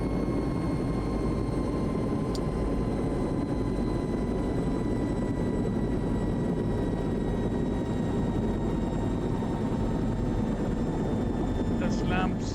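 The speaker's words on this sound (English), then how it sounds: "I'm sure that's not the way you stop this helicopter, but this is the way I'm stopping it." Simulated Lama helicopter being shut down in a flight simulator, its engine and rotor drone steady and loud throughout with faint whining tones above, the run-down not yet evident.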